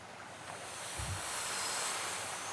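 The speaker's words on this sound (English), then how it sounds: "You start to hear the flow of water, faint at first, and then it gets louder and louder." Steady broadband rush of flowing river water in a damp chasm, building gradually louder with a brief low thump near the middle; no voices.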